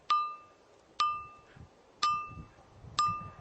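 An ancient pointed stone tool is struck four times at an even pace, each tap giving a clear, bell-like ring that decays quickly, heard close and alone in a quiet space.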